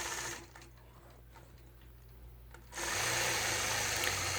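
A sewing machine quilts a simple scalloped border through a quilt with wool batting; it runs steadily, stops briefly to a quieter lull with small clicks, then resumes at a loud, constant whir.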